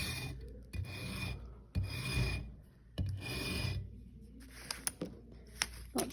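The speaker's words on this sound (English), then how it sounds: "Notice I'm bringing the actual rasp around." Rasp scraping a rounded plaster corner in repeated short strokes, several rough rubbing bursts in a loose rhythm followed by lighter clicks and taps, close and fairly quiet.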